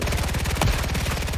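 Rapid automatic fire from the Sidewinder gun in a video game: a fast, even stream of loud, close shots across the whole brief burst, with no talking.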